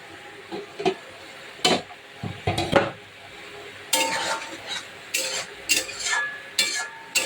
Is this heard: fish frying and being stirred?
yes